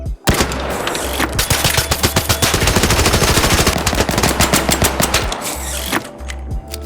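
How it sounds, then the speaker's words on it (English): Weapons in the video game Arc Raiders fire loud, rapid automatic bursts: dense trains of sharp cracks with a heavy low thump beneath them, a brief pause, then more rapid fire that tails off into mechanical clatter. "Every gun sounds so distinct and unique. You don't just hear the shot, you hear the entire process."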